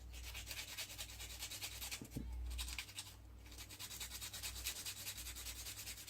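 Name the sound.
sanding plastic with sanding stick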